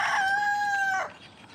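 A rooster crows once, loud and close, holding a long steady call for about a second before it cuts off and leaves quiet farmyard background.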